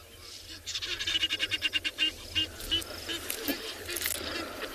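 Egyptian geese call in the South African bush, a quick run of rhythmic, raspy honks that rises and then trails into scattered calls, with faint background bush sounds.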